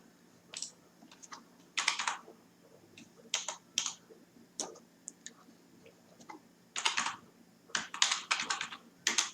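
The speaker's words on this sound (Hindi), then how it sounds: "कमांड प्रॉम्प्ट में आपको टाइप करना है" Someone types a command on a computer keyboard, with quiet bursts of key clicks separated by short pauses, recorded close.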